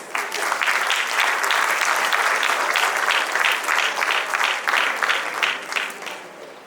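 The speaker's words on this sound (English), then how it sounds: "A round of applause for them, please." Sustained applause from an audience at a national debate and excellence awards ceremony, dense steady clapping that holds for several seconds before thinning slightly at the end.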